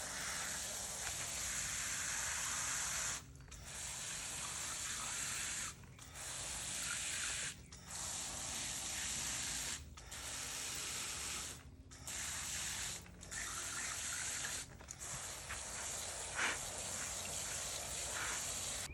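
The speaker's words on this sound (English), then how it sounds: "And now I need to water all of the cuttings." Steady hissing water spray in long bursts over bamboo cuttings, briefly interrupted by short pauses and a few clicks of a trigger sprayer, with no talking.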